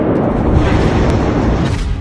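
A loud, sustained rumbling blast fills the whole clip, a dense roaring wash of noise from a huge explosion in Lebanon heard up close.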